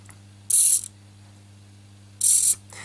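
An AxiDraw pen plotter's pen slide shifts between its up and down positions, giving two short, bright mechanical whirring buzzes about two seconds apart, with a third beginning at the very end over a low steady hum.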